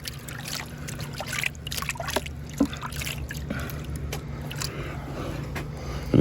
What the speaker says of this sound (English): I'm going to take this, just kind of rinse the sand off.